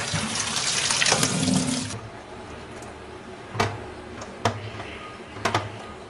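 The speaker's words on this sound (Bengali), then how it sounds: "আমগুলো ভালো করে পরিষ্কার করে ধুয়ে নিতে হবে, যাতে কোনো কষ না থাকে।" Raw mangoes washed under a running kitchen tap: a steady gush of water for about two seconds, then it stops and a few sharp, separate knocks and clicks follow against a quiet background. No one speaks.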